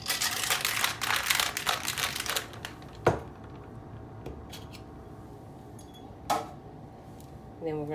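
A cocktail shaker with ice for a Tropical Sunrise is shaken hard, a dense rattling burst for about two and a half seconds, then a quieter stretch with a few separate clinks and knocks.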